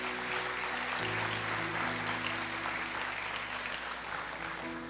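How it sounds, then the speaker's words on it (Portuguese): Church congregation at a family worship service applauds steadily under sustained organ or keyboard chords, the clapping moderately loud and continuous throughout. "Vamos aplaudir em nome de Jesus."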